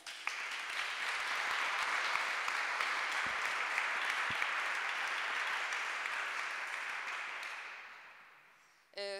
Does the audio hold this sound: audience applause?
yes